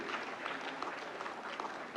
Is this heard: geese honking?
no